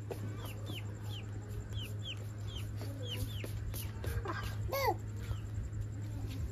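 A young chicken chick peeping and clucking in repeated short, high chirps at a steady pace, close by, over a constant low electrical hum and faint background activity.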